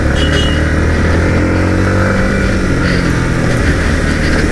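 A Yamaha MT15 V2 motorcycle accelerating during a rolling start on a ride, its engine droning loud and steady with a rising tone, heard up close over rushing wind.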